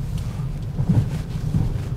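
Steady low rumble inside a 2013 Mazda 2S cabin with a 1.5 engine, air conditioning fan blowing and tyre roar rising from the road, continuous and fairly loud with no talk.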